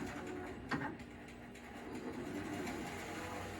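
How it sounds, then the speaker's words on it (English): A longarm quilting machine pulls up its bobbin thread, giving a faint mechanical whir with a brief clunk near the start, then a steady low motor hum. "I'm going to have it pull the bobbin"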